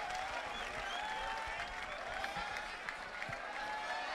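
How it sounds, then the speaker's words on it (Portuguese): A crowd applauds after a round of a rap battle, steady clapping mixed with cheers and voices, moderately distant and continuous throughout. "Vamos aplaudir o Young Black."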